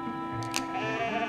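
A sheep gives a brief, faint bleat in a cartoon scene, heard over a steady humming background.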